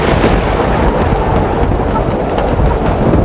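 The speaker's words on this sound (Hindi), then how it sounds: "आंधी और वर्षा होने लगी।" A storm with wind and rain roars continuously, a loud dense wash of rushing wind and pouring rain with no pauses, close and overwhelming.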